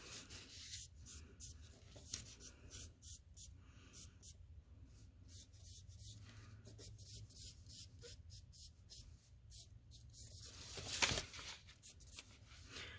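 Charcoal drawn across paper, with soft repeated scratching and rubbing strokes close by, fairly quiet and steady, plus a brief louder scrape near the end.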